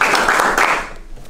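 Applause from a live audience at a motivational speaking event, a dense burst of clapping that fades over about a second, without separate distinct claps.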